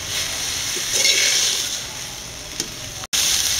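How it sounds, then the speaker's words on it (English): Fried chilli and garlic stirred into brinjal, mint and tomato chutney in a pan, a brief close hiss and bubbling sizzle with a couple of stirring clicks, then a sudden momentary cut. "Now we are stirring it well."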